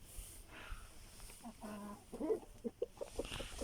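Hens cluck in short, uneven bursts inside a coop, fairly quiet with a faint background hum, the calls growing more frequent toward the end.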